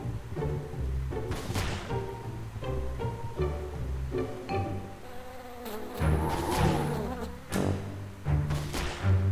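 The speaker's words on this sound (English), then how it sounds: "Pesky bee." A bee buzzes steadily from the Wallace and Gromit's Grand Adventures video game, its drone sitting over a looping music score with tonal bursts, continuous and fairly close throughout.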